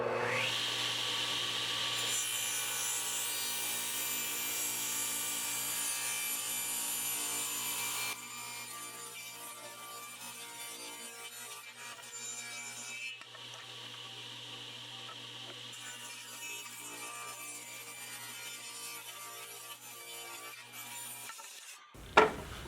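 Wooden boards for a rustic American flag being cut into shape: rasping saw strokes and rubbing on wood, steady and close, changing in tone across sections, ending with a brief knock.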